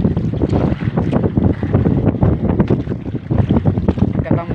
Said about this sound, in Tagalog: Masyadong mahangin guys.